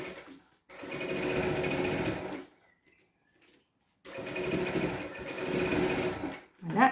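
Sewing machine topstitching across several thick layers of fabric while assembling a pouch, running in two long steady bursts of a few seconds each with a short pause between them, loud and close.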